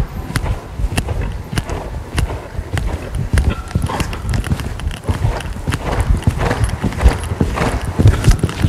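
A horse gallops over ground poles during show jumping training, its hoofbeats a steady, close, rhythmic clip-clop over several strides with no talk on top.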